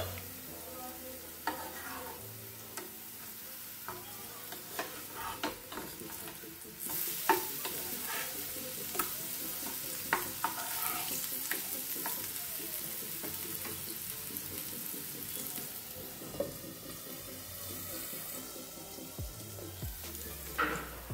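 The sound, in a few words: bottle gourd frying in a covered pan on low flame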